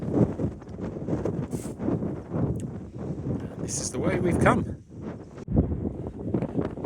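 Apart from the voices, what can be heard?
wind blowing on moorland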